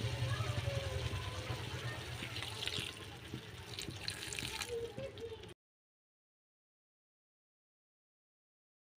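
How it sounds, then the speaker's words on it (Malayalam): Water is poured into a pan of chayote stir-fry while it cooks, a steady running and splashing sound that lasts a few seconds before stopping abruptly into silence. "ഇച്ചിരി വേവുണ്ട്, അതിന് നമുക്ക് വെള്ളം ഒഴിച്ചു കൊടുക്കാം."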